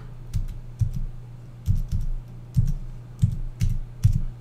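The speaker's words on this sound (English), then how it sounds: "I'm just going to go and type that code in" Fingers tap out a pairing code on a Sandberg Bluetooth touchpad keyboard, with close, crisp key clicks arriving in small clusters of two or three presses and short pauses between them.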